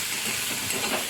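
Spices with turmeric powder and green chilli are stirred and fried in a pan for an egg tadka, giving a loud, continuous sizzle with scraping underneath.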